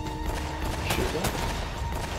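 Gunfire in Uncharted: Drake's Fortune comes as two sharp shots standing out over dense in-game noise and music, with a voice talking underneath.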